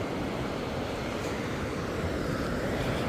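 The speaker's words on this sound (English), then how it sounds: "Here comes a helicopter. See, he's coming right over the top of me." A helicopter passes overhead at a New Jersey beach during surf fishing, its broad engine rumble steady and loud, blended with wind and surf.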